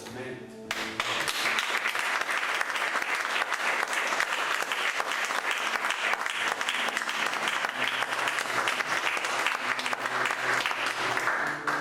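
Congregation at a Spanish church retreat breaking into sustained, full applause that swells in quickly and holds steady and loud, with voices faintly mixed under the clapping.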